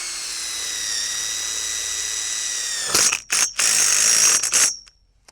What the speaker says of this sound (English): Now we'll do our first screw 1/2 inch down from the joint